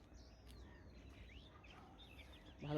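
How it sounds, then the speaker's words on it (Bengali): Birds chirp and twitter faintly in the distance around a rural Bengali village, their short calls scattered over a low, steady background hum of the outdoors. "সুন্দর পাখির কলরব"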